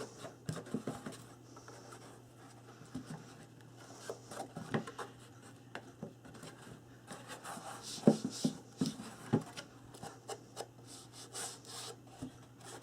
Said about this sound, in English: I'm just going to go along and ink the cut edges of the chipboard